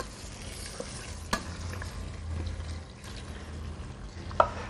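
Meat sizzles quietly and steadily in a hot pan, with a few soft clicks and stirring noises, no voices.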